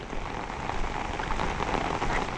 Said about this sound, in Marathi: आज पाऊस पडलो किती येतो बघ दुपारी